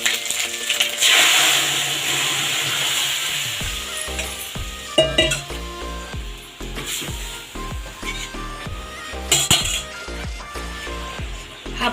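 Kalai dal poured into hot oil tempered with cumin and ginger, a burst of sizzling followed by clinking utensil strokes and stirring knocks, close and moderately loud.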